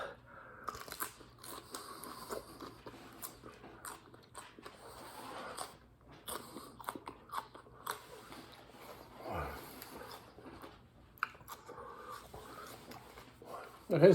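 Crunchy, juicy hot pepper bitten and chewed during a first pepper challenge, faint wet crunching and mouth sounds close to the mic, with occasional breaths and a sharp noise at the end.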